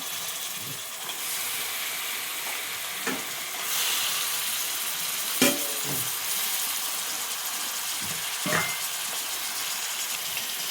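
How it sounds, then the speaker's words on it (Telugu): Mutton pieces sizzling and frying in a hot pan for a mutton masala curry, a steady hiss with a few louder spits and stirring clatters, no talking. "ఇప్పుడైతే మటన్ వేసేద్దాం."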